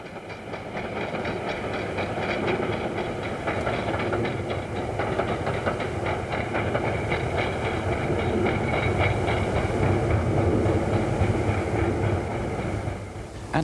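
A train rolls steadily across the Ribblehead Viaduct, its dense rumble and rhythmic wheel clatter building gradually and holding for several seconds, with no talk.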